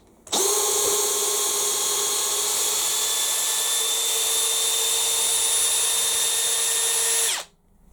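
A corded power drill spins a screw back out of wood, one steady high whine starting abruptly, holding loud and even for about seven seconds, then cutting off.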